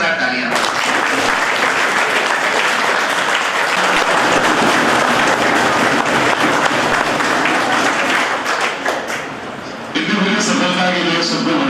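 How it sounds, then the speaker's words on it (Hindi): Loud, sustained applause from a large crowd at a student success ceremony honoring parents, continuous clapping for about ten seconds before a voice speaks briefly over the fading claps. "इन सबके लिए पेरेंट्स के लिए जोरदार तालियां"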